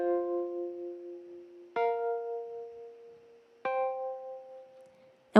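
Three sustained keyboard chords voiced with only the third and seventh of each minor seventh chord, each struck cleanly and left to ring and decay before the next, with no talking.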